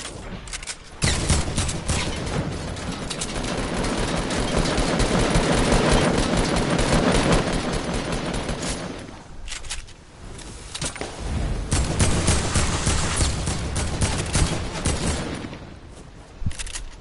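Sustained, loud SMG fire in a video game rattles almost continuously, with a brief lull midway before rapid bursts resume, mixed with heavy impact noise.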